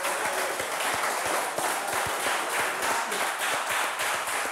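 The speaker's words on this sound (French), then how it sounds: "Applaudissez pour mes deux candidats" Studio audience applauding two game show contestants, a steady dense wash of many hands clapping throughout, loud and sustained with no talk over it.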